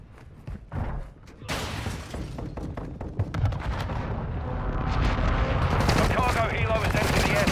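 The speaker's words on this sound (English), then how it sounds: "Enemy precision airstrike." Call of Duty: Modern Warfare II battle sounds from an enemy precision airstrike, with heavy booming blasts and dense gunfire building into a loud, continuous roar of explosions and rattling shots.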